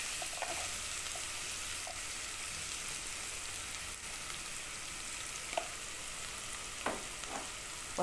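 Garlic cloves fry in a hot pan, a steady bright sizzle running throughout with a few faint clicks of stirring, heard up close and alone.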